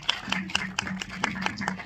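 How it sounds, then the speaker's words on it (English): Applause at a film press conference in Delhi, a quick, even run of claps close by with only a thin crowd behind them. "Can you give a huge round of applause"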